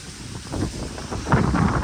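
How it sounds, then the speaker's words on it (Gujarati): Strong wind roars and buffets against the microphone outdoors during a storm near a mango tree, a continuous loud rushing that swells near the end, with no talk. "પવન એટલો બધો આવતો છે"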